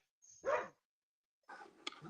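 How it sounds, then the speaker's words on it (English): Dogs bark in short bursts, one loud bark followed by a pause and then a ragged cluster of fainter barks and yips at moderate distance. "Dogs are barking in unison."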